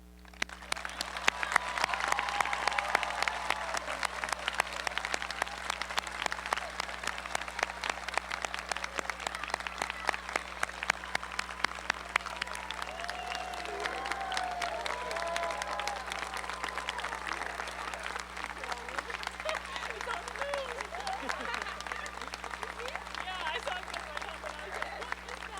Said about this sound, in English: let's conclude this ceremony with a round of applause for all of our graduates